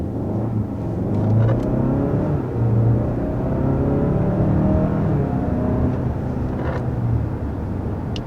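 A 2021 Hyundai Santa Fe accelerates hard on the road with a steady, loud engine drone and tire and road rumble heard from inside the cabin, with no talk.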